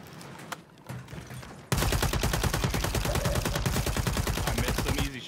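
Call of Duty gunfire: a sudden sustained burst of rapid automatic fire, loud and dense with evenly spaced shots, following a quieter stretch with a couple of single cracks.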